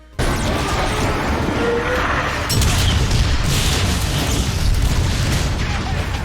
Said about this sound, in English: Using this power allows Prime to call in a mortar strike, which will take out most things in its path.